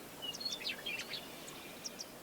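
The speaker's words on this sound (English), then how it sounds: "The patch of sagebrush is large enough to support a brewer's sparrow, trilling musically in the background" A Brewer's sparrow sings faint, high, musical trills from a patch of sagebrush, distant and quiet over a soft open-air background, with a few brief chirps scattered across it.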